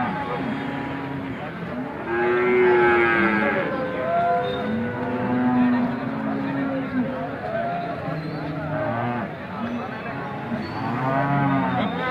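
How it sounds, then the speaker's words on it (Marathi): Cows moo repeatedly at a busy livestock market for dairy cattle, long drawn-out calls from several animals near and farther off, overlapping with constant crowd chatter and people talking throughout. "पहिली गाई पाहून घेऊया."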